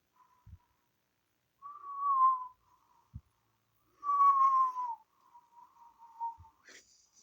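A person whistles to imitate wind whistling around the corners of a house: a few thin, wavering whistles that slide downward, close and moderately loud, separated by pauses and soft knocks.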